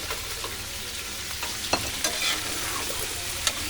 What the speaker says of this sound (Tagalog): Haluin lang po natin siya.